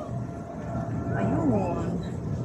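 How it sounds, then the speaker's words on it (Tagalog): An airplane flies over near a Hong Kong park, giving a steady, moderately distant roar that swells slightly and then eases, with outdoor background noise. "May aeroplano, guys, oh."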